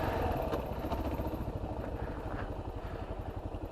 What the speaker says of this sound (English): I don't see them having a problem with the KLR. Chugging back through here.